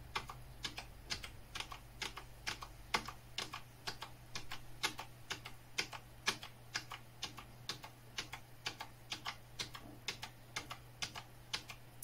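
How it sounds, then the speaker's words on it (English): The Escape key on a computer keyboard is tapped repeatedly while an HP workstation boots, giving a steady run of crisp, evenly spaced clicks, about two a second, over a low constant hum. "start pressing Escape on your keyboard about once or twice a second"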